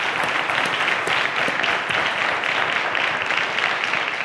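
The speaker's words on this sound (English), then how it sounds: "A round of applause to Favour" A quiz show audience at Cowbellpedia breaks into continuous applause, many hands clapping in a full, even roar that holds steady from start to finish.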